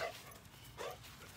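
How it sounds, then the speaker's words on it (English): A dog barks at a tree outdoors, giving two faint, short barks a moment apart against quiet background noise. "You keep barking at the tree?"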